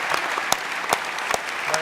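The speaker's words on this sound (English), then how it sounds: "I just want to hear a round of applause for the volunteers who make that possible" An audience at a fundraising gala applauds for volunteers, dense steady clapping with a few sharper individual claps standing out across the short stretch.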